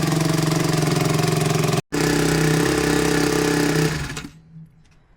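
Warmed-up Honda CRF150R dirt bike engine running loud and close with a steady idle drone for about four seconds, briefly cutting out once, then dying away into quiet.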